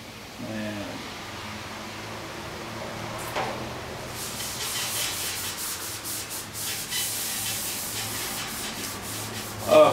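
Wet sanding the rear hatch panel of a 1967 VW Bus, a steady abrasive rubbing that grows louder and more rhythmic in back-and-forth strokes, close up with no talking.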